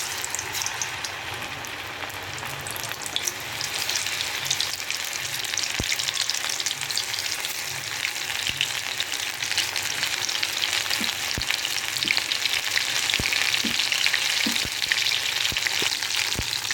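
Paneer cubes frying in hot oil for chilli paneer 65, a continuous loud sizzle with crackling pops and occasional sharp spatters, steady throughout with no talking.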